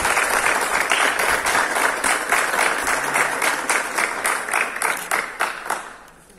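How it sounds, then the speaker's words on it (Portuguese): A crowd applauds at a public event, steady clapping from many hands that holds strong and then tapers off toward the end. "O momento foi acompanhado de euforia e aplausos por parte dos"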